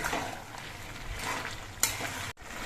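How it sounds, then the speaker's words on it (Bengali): A vegetable curry with added sugar is stirred in a pan, a soft steady sizzle with light scraping strokes of the ladle, close and quiet, with no talk. "চিনি দিয়ে নেড়ে চেড়ে মিশিয়ে নিতে হবে"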